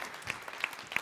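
An audience at a conference panel applauds with sparse, distinct claps standing out over a steady wash of clapping, moderately loud and without voices.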